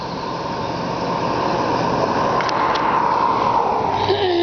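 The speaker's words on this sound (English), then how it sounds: "this loud traffic going by on my quiet road" A steady, rushing roar of a vehicle passing close by on a quiet road, sustained throughout with a faint high squeal near the end.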